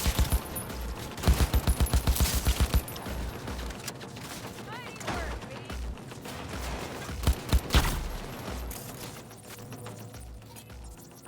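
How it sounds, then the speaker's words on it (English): Close-range automatic gunfire in the video game Cyberpunk 2077, rapid bursts of shots with mechanical clatter and music, fading and then returning in short volleys, with voices in the mix. "Firing at close range."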